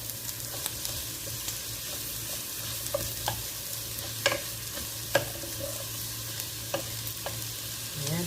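Okra and plenty of onions fry in a pan, a steady hiss and sizzle broken by sharp scraping clicks as a utensil stirs them every second or so.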